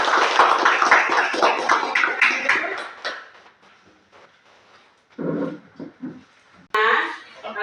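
A classroom group applauds with a burst of dense, close clapping that lasts a few seconds and fades out. Scattered claps and voices follow.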